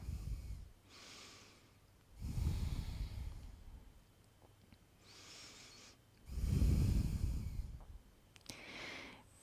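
Slow, deep breathing during a gentle yoga stretch, with two long loud exhalations and softer breaths between them in a steady cycle, close and clear with no talking.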